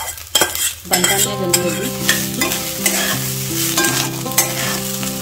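Cooked rice with spices such as turmeric is stirred and fried in a hot pan, sizzling loudly and close with scraping stir strokes throughout, while someone speaks briefly over it.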